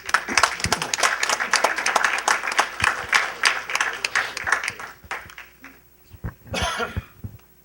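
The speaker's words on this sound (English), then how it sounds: "let's give a round of applause for the Chief" An audience at an evening community program applauds as the Chief takes the microphone, a dense burst of clapping that thins out into scattered claps, with coughs and throat clearing near the end.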